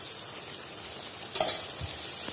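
Fried koi fish dropped into hot oil in a pan make a continuous close sizzle, with a short cluster of soft thuds and clinks midway as the pieces go in, and no talking.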